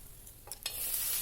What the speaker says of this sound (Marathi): दाणे मी आता भाजून घेतले